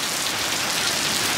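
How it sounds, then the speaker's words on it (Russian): Heavy rain pours steadily outdoors, a dense, even hiss of drops with no pauses, close and loud throughout. "Все, дождик."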